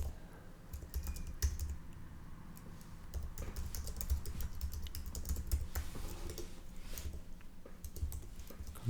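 Steady computer keyboard typing fills the clip as a headline is entered during a Figma app UI design session, with close, continuous, even keystrokes and no talking.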